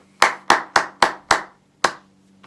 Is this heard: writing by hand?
no